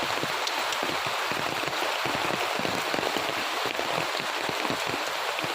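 Heavy rain pours down steadily outside a home where tulsi plants have been flattened, a loud, dense hiss of drops striking surfaces with a continuous close patter and no talking.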